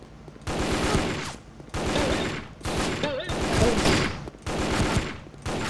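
Bursts of automatic gunfire from the online shooter game Sudden Attack, several loud sustained volleys separated by short pauses, with faint voice fragments in between.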